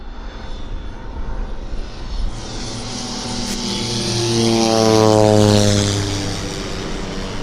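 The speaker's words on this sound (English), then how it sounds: "There it is. It's a Kodiak. Nice looking amphib." A Kodiak amphibian floatplane flying in low overhead at Vancouver Airport, its propeller drone swelling steadily louder as it nears and passes above, then easing off slightly, with no talking over it.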